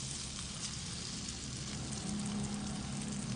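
Marinated, flour-coated chicken breast frying in oil, a soft steady sizzle like light rain, faint and continuous, with no talking.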